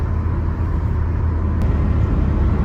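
Car driving along a highway near the Qatar-Saudi border, heard from inside as a steady low road rumble and engine drone at an even level throughout, with no talking.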